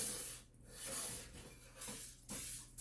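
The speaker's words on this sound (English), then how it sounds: "you're going to spray the sides" Short bursts of cooking spray hiss onto the paper-lined sides of a baking pan for blondies, close and quiet, several brief sprays in a row with no talking.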